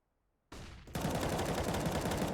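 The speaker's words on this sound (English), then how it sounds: "LauNX makes it work at long range with the M4A4" Sustained M4A4 rifle fire in Counter-Strike on the Mirage map, a dense, loud continuous burst of automatic shots that starts abruptly and keeps going without a break.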